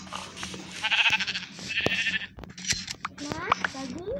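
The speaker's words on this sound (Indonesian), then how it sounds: "kita bakal gunting domba" Sheep bleat loudly and repeatedly while being sheared in the video game Craftsman, with several wavering cries close by and a voice talking between and over them.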